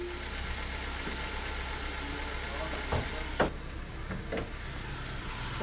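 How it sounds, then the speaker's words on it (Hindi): A car engine idles with a steady, smooth low hum, interrupted by a few brief clicks and knocks. "ये देखो इंजन का साउंड देखो कितना अच्छा, तो इंजन का साउंड ही अगर मैं सुनाऊं आपको"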